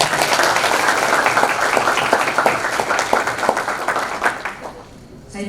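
An audience applauds at a nursing student pledge ceremony at AKPER Bina Insan, with dense, loud, sustained clapping that fades out near the end.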